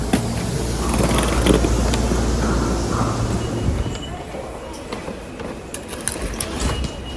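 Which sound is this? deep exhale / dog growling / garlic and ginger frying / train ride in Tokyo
train ride in Tokyo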